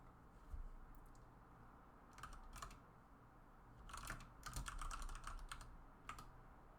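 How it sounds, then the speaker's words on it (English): Quiet computer keyboard typing, with irregular bursts of key clicks and a brief flurry of faster presses, set against a faint room hum. "why am I typing?"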